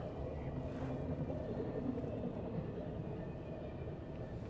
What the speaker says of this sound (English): this train's hooking it, but a lot of times these trains stop and block us in here for hours